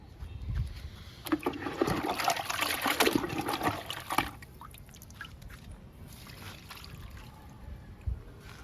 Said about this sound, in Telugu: ఈ రెండు మొక్కలకి ఇచ్చేద్దాము లిక్విడ్.